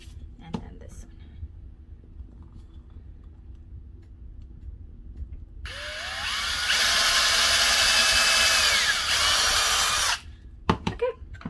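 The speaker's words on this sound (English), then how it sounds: "And now we're going to drill on this one." A power drill bores into a scrap wood board, starting with a rising whine and holding a loud steady grinding buzz for about four seconds before cutting off, with quiet handling sounds and clicks around it.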